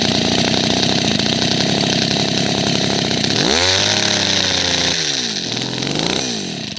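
A small two-stroke engine runs loud and uneven, its pitch surging and dropping as the revs hunt and sputter, with no voices.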